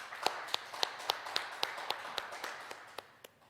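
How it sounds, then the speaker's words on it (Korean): A congregation at a Korean church Wednesday worship service claps together in a steady, even rhythm, about a dozen crisp claps at moderate distance, with no talking over them. "오늘 특별 찬양해 준 우리 복음 1구역 식구들을 위해서 축복하고 격려하는 박수 한번 하도록 하겠습니다."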